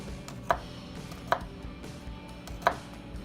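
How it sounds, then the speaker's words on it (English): Three sharp, separate knife taps against a cutting board as garlic is sliced thin, spaced unevenly over a low background hum; close and quiet. "I'm just going to cut up the garlic into really thin slices."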